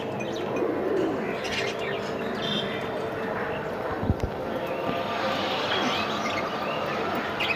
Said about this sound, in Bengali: তিনটা কবুতর উঠতেছে